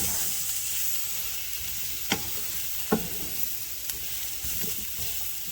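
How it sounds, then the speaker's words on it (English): Food for beef stroganoff sautés in a pan with a steady close hiss of sizzling and frying, broken by a few brief utensil taps and scrapes from stirring. "So we're gonna saute these up, and then we'll move on to the next step."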